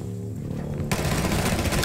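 Automatic gunfire in Rainbow Six Siege bursts in suddenly after a low hum, a loud rapid stream of shots filling the rest of the moment.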